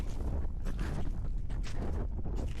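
Wind buffets and rumbles across the microphone on a winter hike in the Rila mountains, a steady low roar with gusty swells, nothing else standing out.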